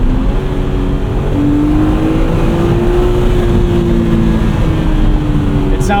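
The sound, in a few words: BMW Z4 M Coupe 3.2 liter inline six engine revving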